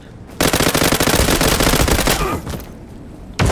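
Rapid automatic gunfire in the first-person shooter game Zula, a loud sustained burst of close shots, then a brief pause and another shot starting.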